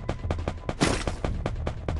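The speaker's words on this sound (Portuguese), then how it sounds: "Ih, meu Deus, muitos tiros, muitos tiros." Rapid gunfire in the video game Free Fire, a quick burst of about a dozen sharp shots in irregular rhythm with one louder blast near the middle, close and loud.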